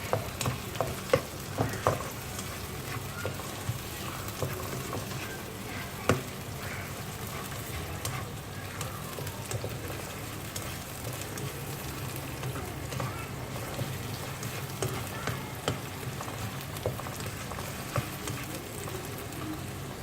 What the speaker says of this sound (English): Give it a good stir, and you have to cook this until the tomatoes have really softened.